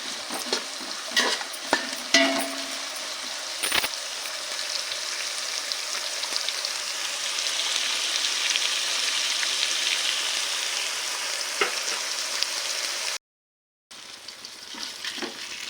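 Onions cook in a pan for a Sunday chicken curry and pulao, a steady broadband sizzle with scattered stirring clicks, continuous and fairly loud, broken by a brief silent gap near the end.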